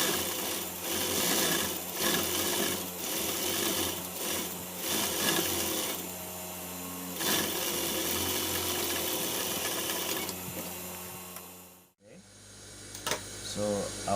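A sewing machine runs steadily down a waistcoat seam, a continuous close whirring hum with a faint voice underneath, then stops abruptly near the end before a few quiet handling sounds.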